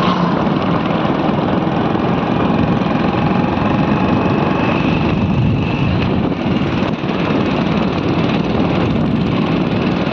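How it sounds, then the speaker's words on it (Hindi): A motorcycle engine drones steadily while riding through a village, a continuous rough hum with wind buffeting the microphone, loud and unbroken with no talk over it. "देखिए बाइक चला रहे हैं भाई अभी"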